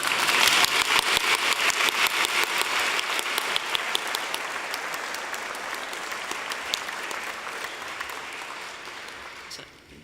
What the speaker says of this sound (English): So can we have a round of applause for her?